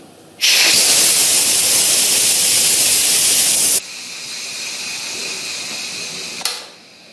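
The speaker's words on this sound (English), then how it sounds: "The second way is the quick release, and that means you just turn the steam release handle to the venting position." An Instant Pot IP-DUO60 electric pressure cooker vents steam on quick release: a loud, forceful hiss bursts out, then steps down to a quieter steady hiss before a brief final puff and fade.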